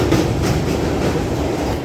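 A moving Ranaghat local train heard from a window seat: a loud, steady rumble and rattle of wheels and carriages, constant throughout with no talking.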